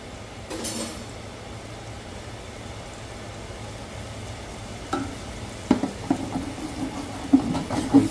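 A utensil scrapes across a pan of frying onions and bell peppers, with a low steady sizzle underneath and a few louder scrapes and clinks clustering toward the end.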